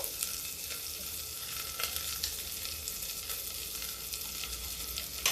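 Onion and spices fry in a pan, giving a steady close sizzle of crackling oil that keeps up without a break and has no talk over it.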